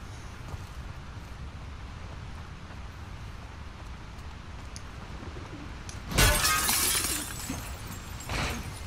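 Glass shatters in the game The Last of Us Part II, a sudden bright crash with scattering shards following a stretch of quiet ambience and birds cooing, then a smaller second break shortly after; no voices.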